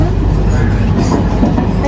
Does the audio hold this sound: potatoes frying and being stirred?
no